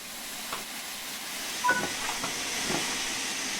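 Steam hisses steadily from the open cylinder cocks of a steam locomotive in the Train Sim World game, a continuous broad rush with a few faint clanks and a brief tone partway through.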